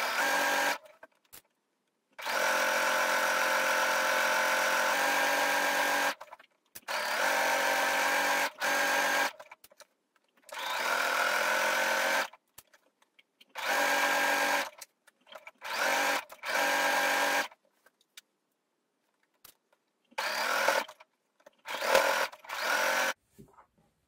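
A sewing machine stitches a dress neckline with a decorative overlock-style zigzag, running in repeated bursts of steady whirring separated by silent pauses, the later runs shorter and choppier.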